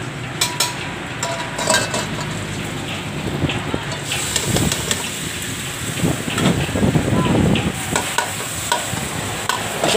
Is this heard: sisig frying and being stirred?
yes